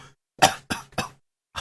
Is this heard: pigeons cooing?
no